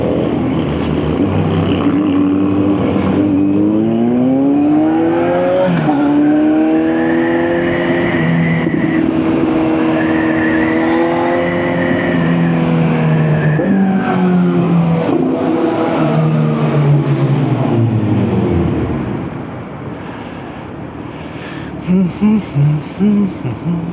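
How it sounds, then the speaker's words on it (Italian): A Kawasaki Z900 motorcycle ridden at night through Milan, the engine rising and falling through gears in long revving sweeps, loud and close, then easing off near the end as a few sharp knocks sound. "guidare la moto è bellissimo"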